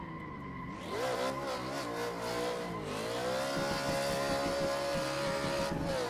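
A BMW E92 engine howls during a drift in Assetto Corsa, rising from a low idle into a loud, sustained high-revving wail that dips and climbs again as the throttle shifts, close and continuous throughout.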